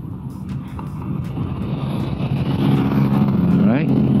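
An NWOW WSP electric scooter-style motorcycle on new 100/90/12 and 110/90/12 tires pulls hard at full throttle, a steady road-and-wind roar building in strength with a rising whine near the end, while a rider talks over it.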